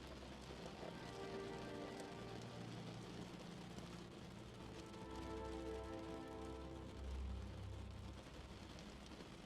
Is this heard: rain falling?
yes